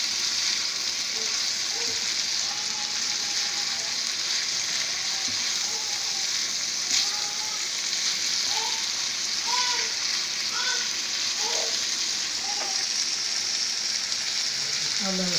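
Chopped tomatoes and spices fry in a pan for bhindi gosht, a steady loud sizzle and crackle with bubbling pops running throughout, with a voice speaking faintly at times.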